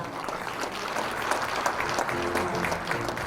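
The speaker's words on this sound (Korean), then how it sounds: "여러분 다시 한번 뜨거운 박수 보내주시기 바랍니다" Audience applause at a blockchain technology demonstration event, a steady wash of clapping from a crowd lasting a few seconds at moderate level.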